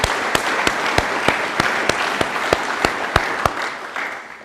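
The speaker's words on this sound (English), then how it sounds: "give her a round of applause, please." An audience gives a round of applause at a political party event, dense continuous clapping with a few sharp rhythmic claps standing out near the microphone, fading slightly at the end.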